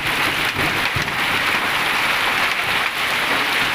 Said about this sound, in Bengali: শিলা বৃষ্টি হচ্ছে দেখুন অবস্থা।